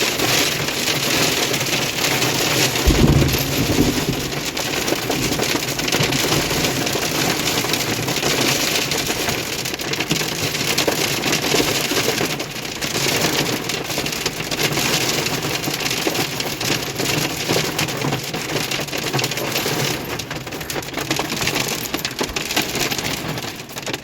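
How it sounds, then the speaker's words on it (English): Hail falling steadily onto a pickup truck and the ground around it, a dense, constant rattling patter that stays loud and even throughout. "but then it decided to hail."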